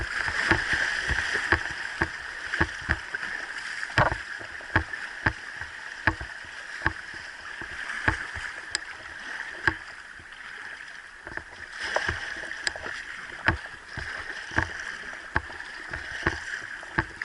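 River current rushing and gurgling around a paddled boat on the run from Lovicks to Grants Mill, with steady water wash broken by frequent paddle splashes and knocks close by, no talk.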